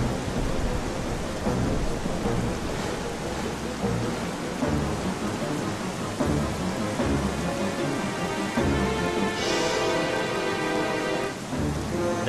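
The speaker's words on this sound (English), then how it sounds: "It's so rainy that you're barely gonna be able to stay still." Rainstorm with thunder in the video game Zelda: Twilight Princess: heavy, steady rain pours throughout while low thunder rumbles roll in several times, with a brief brighter crack near the end.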